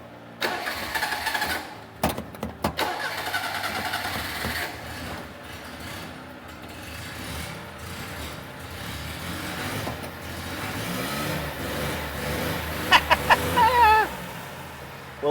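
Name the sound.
old carbureted car engine starting after sitting for years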